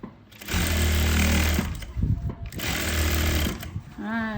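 An electric sewing machine stitches an elastic waistband in two loud, close motor runs of about a second each, separated by a short pause.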